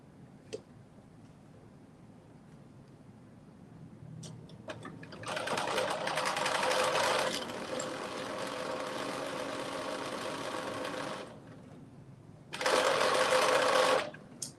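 A sewing machine runs in two bursts, a long steady stretch of rapid stitching and then a shorter fast run after a pause, close and loud.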